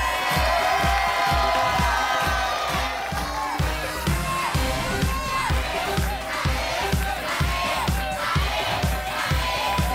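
A studio audience at a Family 100 game show cheers and claps rhythmically for a team, loud crowd shouting over a pounding beat.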